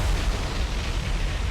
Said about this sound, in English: we saw a massive magazine explosion